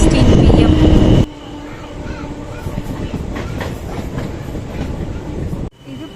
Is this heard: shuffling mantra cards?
no